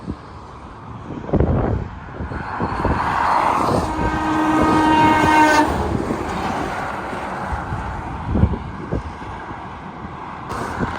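A Freightliner truck on the I-10 sounds its horn in a long multi-tone blast while rumbling past, the engine roar swelling and fading against outdoor wind noise.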